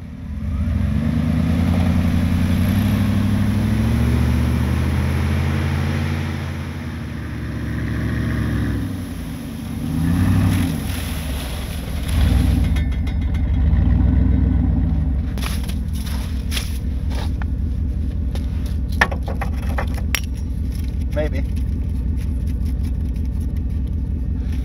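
A tracked vehicle's engine rumbles steadily as it churns and backs through mud, loud and close, with the low drone shifting in pitch as it revs and strains.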